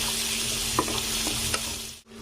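Onions being stirred in hot oil with bay leaf and dried chilli, a steady close sizzle broken by a few scraping spoon knocks, then a brief cut near the end.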